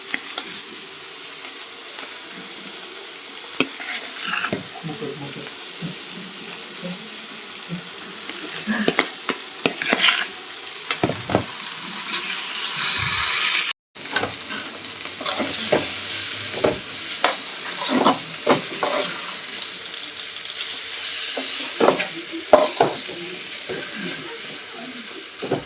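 Boiled potatoes stirred as they fry in a pan, a soft continuous sizzle broken by scraping and clinking stirring strokes, close and steady, with a brief cutoff partway.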